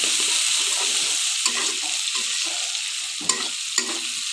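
Green chillies, tomato and fresh onion stir-fried in a pan for a Bengali egg and new potato curry, with a steady sizzle and the stirring spoon scraping in short bursts and a few sharp clinks throughout.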